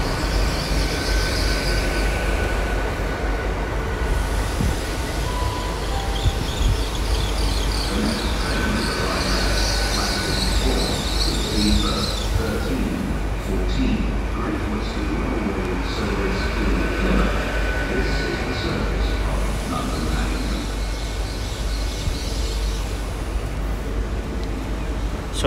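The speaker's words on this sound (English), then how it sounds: "We got another IT that will come in into platform 4 from London Paddington going to Penzance." Intercity Express Train pulling into platform 4 at Exeter St David's on a Paddington to Penzance service, a continuous rumble of wheels on rail with faint squeals, steady and fairly close throughout.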